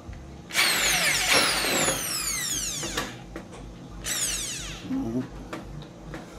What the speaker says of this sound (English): Okay, drill out all four holes again.